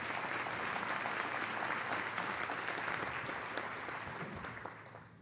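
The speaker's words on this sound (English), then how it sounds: "Please give your applause today." An audience at a city's State of the City address claps steadily in a dense, sustained wash of applause that holds for several seconds before starting to thin toward the end.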